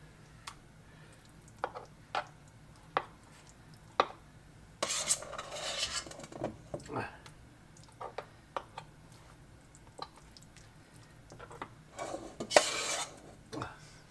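A utensil scrapes and taps the bottom of a pot of lasagne sauce, with sparse sharp clicks and two longer stretches of grinding scraping, close and fairly quiet.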